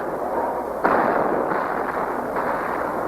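Mortar fire at Khe Sanh during the Vietnam War lands as a sudden loud blast followed by a rumbling roar and a few further muffled thuds in a dense, noisy mix.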